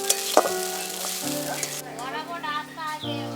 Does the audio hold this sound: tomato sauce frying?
yes